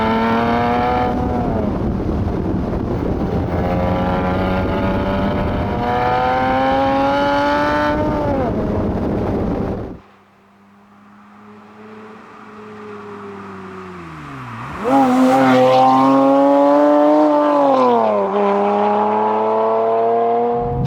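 A Toyota MR2 with a 320 hp 3.5-litre V6 engine accelerates loudly up through the revs, drops off sharply on a lift or shift, then roars back and climbs again, heard close from on board.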